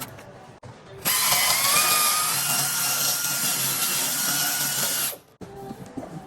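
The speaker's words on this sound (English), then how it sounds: "Now we're going to wet sand with the 3000 grit sandpaper." A car headlight lens being wet sanded with 3000 grit sandpaper: a steady, fairly loud abrasive whirring rasp lasting about four seconds, with quiet handling noises before and after.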